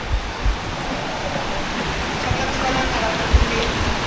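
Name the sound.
strong flowing river current at Cavinti cave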